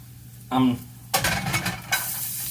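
Freshly cut onions drop into hot seed oil in a pan with a brief hiss, then a louder burst of sizzling and stirring, close and crackling, over a little over a second of activity.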